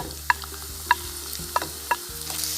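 Long-sliced onions and green chilies sizzle steadily in a hot pan while a spoon scrapes and stirs, giving a few sharp clicks over the constant frying hiss; no one speaks.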